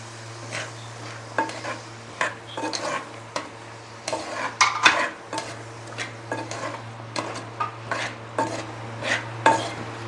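Dried turkey berries and okra being stirred through a curry in a pan, a spoon scraping and tapping the pan in a steady rhythm of close clinks over a faint continuous hum, with no talking.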